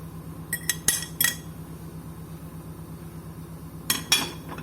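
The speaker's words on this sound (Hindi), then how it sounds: "इन सब चीज़ों को अच्छी तरह मिक्स करके इसको मैं साइड पे रख लेती हूँ" Spoon clinking against a bowl while boiled potatoes are mixed with fresh coriander and spices, a few sharp metallic taps in two brief clusters over quiet background hiss.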